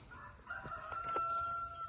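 A rooster named Rooster Cogburn crows once in the early morning on a farm in eastern Oklahoma, a loud, clear, drawn-out call close by.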